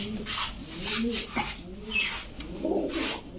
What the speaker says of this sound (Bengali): আমরা এখানে পাইলাম 3 জোড়া কবুতর